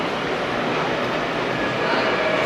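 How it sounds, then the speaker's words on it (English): A train rolls in with a broad, steady rumble and rushing noise that fills the whole stretch, loud and close, with a faint high whine near the end. "Oh, that's a train coming in."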